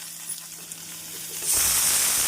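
Chopped onions drop into hot oil already seasoned with dried red chillies and curry leaves for a brinjal poriyal, quiet stirring giving way to a sudden loud, steady sizzle that fills the second half.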